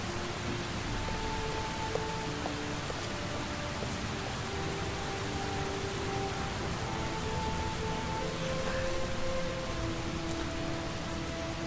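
Steady rain pours in the Heavy Rain video game, a dense, even hiss of drops on surfaces filling the whole stretch, with faint tonal game sounds drifting underneath and no voices.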